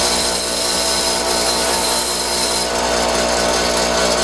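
A lathe tool bit is held against a bench grinder, giving a loud, steady abrasive grinding hiss that runs nonstop and close by, with no voices.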